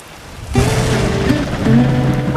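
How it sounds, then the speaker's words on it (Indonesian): Heavy rain pours down steadily as a loud, broad hiss that starts suddenly and continues throughout, with a few faint tonal sounds mixed in. "Duh, hujannya gede banget Adika."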